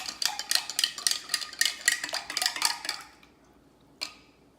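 A Bloody Mary cocktail being stirred in a glass: a quick run of rhythmic clinks and scrapes from a spoon for about three seconds, then a pause and one last clink, close and alone.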